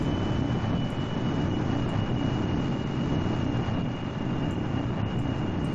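A plane in Kerbal Space Program flies at high speed during an altitude record attempt, a steady, loud broadband engine and air roar with no talk, holding even for several seconds.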